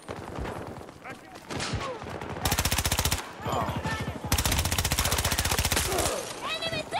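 Long, rapid bursts of automatic gunfire from a video game hammer away loudly for several seconds, with scattered single shots and a voice talking before and after.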